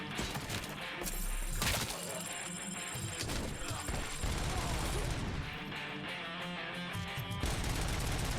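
Gunfire in the RoboCop: Rogue City video game during a mall shootout, dense overlapping shots and bursts with crashes and thuds, loud and continuous for several seconds within a busy game soundscape.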